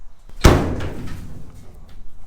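A single solid slam as the steel door of a 1937 Ford Sedan Delivery with rust issues is shut, close and loud, with a short ringing decay afterward and no talk.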